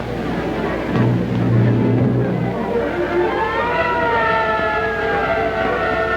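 A fire engine siren wails at a Hollywood jalopy race crash, rising and holding loud over the constant rumble of engines and crowd noise.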